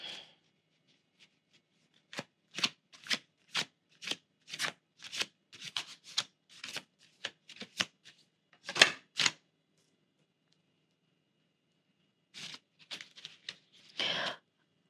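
Tarot cards are shuffled in a rapid series of crisp riffling snaps, close and fairly quiet, with a pause before a final short burst of shuffling.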